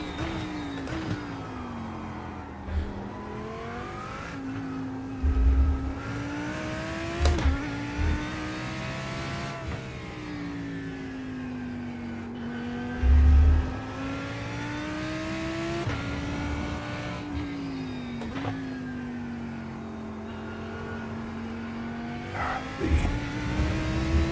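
A Mustang race car engine in the iRacing sim, droning loud and close as it rises and falls through gear changes, with occasional low thumps and brief tire noise over a continuous roar.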